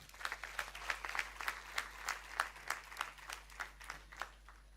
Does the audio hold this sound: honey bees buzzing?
no